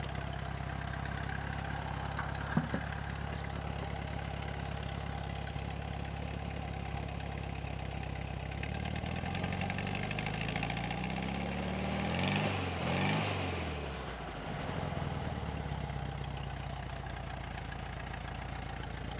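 A 1970 VW Beetle air-cooled engine idles while warming up, a steady low rumbling chug that briefly rises and falls in pitch midway before settling back to an even idle.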